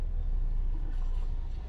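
A motorcycle engine rumbles steadily nearby as it descends a steep street in Taxco, Guerrero, a low continuous drone that fades slightly toward the end, with no speech.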